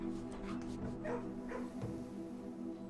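A dog in the video game Blue Prince barking when petted, short soft yips and whimpers over low background music, fairly quiet and mixed under the game sound.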